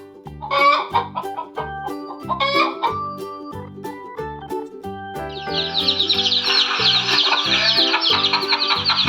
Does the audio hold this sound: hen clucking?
yes